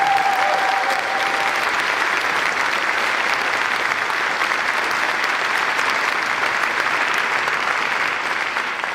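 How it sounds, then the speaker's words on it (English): An audience at a Mazzoni Center honors event for George Takei gives sustained, loud applause for staff, board and volunteers, a steady wash of many clapping hands throughout with no break. "Can we give a round of applause for our staff, board, and volunteers in the Mazzoni Center?"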